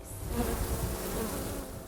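A dense, steady drone of many honeybees buzzing around a hive, continuous and close, with no voices.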